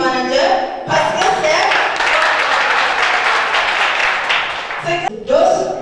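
An audience at a large conference bursts into loud, sustained applause for roughly four seconds, framed by a speaker's voice before and after.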